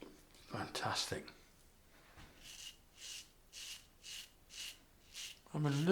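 A Soluna safety razor dragging against the grain produces a series of about six short, evenly spaced raspy scraping strokes, close and faint, with brief talk at the start and end.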